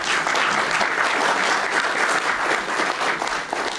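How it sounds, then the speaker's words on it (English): An audience at a retro gaming expo talk claps steadily and loudly, a dense continuous wash of applause from a large crowd filling the whole moment. "You guys are already clapping."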